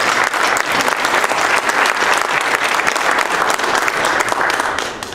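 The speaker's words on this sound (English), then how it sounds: "So let's give a round of applause to all the coaches." Dense, steady applause fills a room as an audience claps for the coaches at a Startup Weekend entrepreneurship event. It stays loud throughout and fades slightly at the end.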